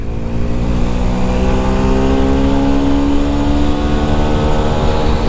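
A Yamaha FZS hybrid motorcycle engine revs steadily upward through the gears, a loud, close, continuous drone with rising harmonic tones and no speech.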